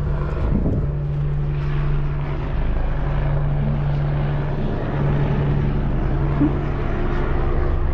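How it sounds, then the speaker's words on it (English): A steady engine drone with a low rotor hum holds throughout, loud and constant as a helicopter passes close overhead at the Giza Plateau. "Helicopter."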